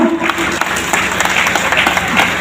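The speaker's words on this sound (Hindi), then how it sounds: "पर तालियों में तो मत कसर छोड़ा करो" Audience applause at a political rally in Bhiwani fills the whole stretch as steady, dense clapping from a large crowd. It holds at an even level throughout with a few sharper claps rising above the mass.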